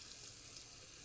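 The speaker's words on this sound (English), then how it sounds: "adding in the water and the borax" Water pours into a rock tumbler barrel along with borax for burnishing, a soft continuous splashing hiss, faint and close, with no speech.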